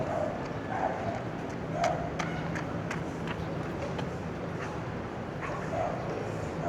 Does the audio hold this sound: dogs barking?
yes